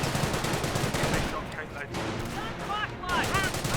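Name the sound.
gunfire in video game Company of Heroes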